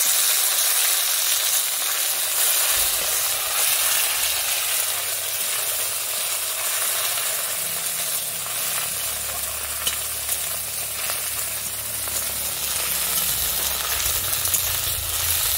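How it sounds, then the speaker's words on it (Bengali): Kharkol leaves sizzle and crackle in hot oil seasoned with black cumin, a steady, close frying hiss with occasional stirring running through the whole stretch. "আমার তেল গরম হয়ে গেছে, এবারে আমি কালো জিরে দিয়ে দিচ্ছি। কালো জিরেটা হয়ে গেছে, আমি পাতাটাকে এবার তুলে দিচ্ছি।"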